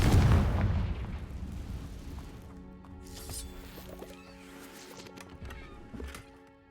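A Confringo explosive spell detonates in Hogwarts Legacy, opening with a heavy, booming blast that rumbles and fades, followed by scattered thuds and lighter clatter.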